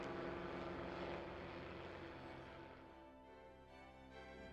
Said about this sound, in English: We decided to fly up to the Central Coast following the same flight plan as Captain Ito had nearly 60 years ago.